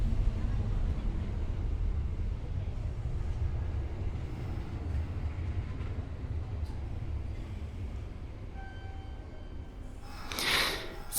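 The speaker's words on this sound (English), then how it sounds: "So, the train is here." Train pulling into a station, a low continuous rumble and rolling wagon noise at moderate distance, with a brief brighter squeal near the end.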